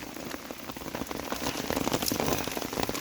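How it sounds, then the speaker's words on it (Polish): Heavy downpour during a fishing trip by the Bug river, a dense steady hiss of rain drumming on surfaces, close and loud, with no voices throughout. "poszliśmy na ryby i jest urwanie chmury. Nie jest dobrze pada już"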